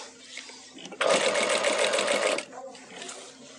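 A sewing machine runs a continuous stitch along a shirt's front placket, a steady rapid mechanical whir lasting about a second and a half, with quieter room sound before and after.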